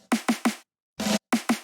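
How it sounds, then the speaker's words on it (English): Short snare roll from an FL Studio production, a few sharp, evenly spaced hits in quick bursts with a brief gap between groups, loud and dry with no voices. "there's this little snare roll thing"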